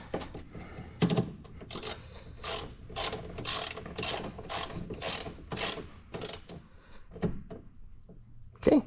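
Close, crisp clicking of a ratchet snugging the bolts that hold the plastic coolant tank in a 2006 Mazda Miata, short rhythmic bursts of pawl clicks repeated over several seconds, with a voice talking over them at times.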